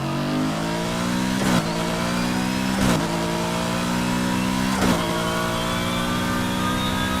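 A BMW M3 GTR race car with a cross-plane engine in the Need for Speed Most Wanted video game revs repeatedly, holding a droning mid-pitched tone broken by three sharp blips or gear changes, loud and close with no voices.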